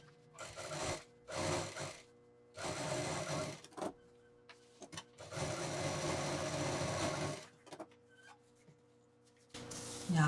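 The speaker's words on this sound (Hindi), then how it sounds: "अब इसको यहाँ से सिल के फिनिशिंग दे देंगे।" A sewing machine stitches a zip onto a handmade sling bag in several bursts of steady whirring, separated by short pauses, near and moderately loud.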